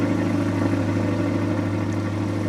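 A 2020 Chevrolet Corvette C8 in sport mode rumbles at a steady idle, with a deep, even exhaust drone that stays close and constant.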